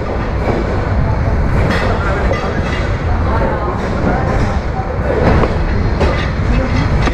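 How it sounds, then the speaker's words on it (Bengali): A Bangladeshi express train on the Sylhet to Chittagong route gains speed, with a loud steady rumble and rhythmic wheel clatter filling the whole stretch while people talk nearby. "ধীরে ধীরে ট্রেনের গতি বাড়ছে।"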